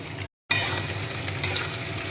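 Vegetables such as cauliflower, capsicum, peas and ginger fry in olive oil for vegetarian chow mein, giving a steady close hiss and sizzle with a brief dropout near the start.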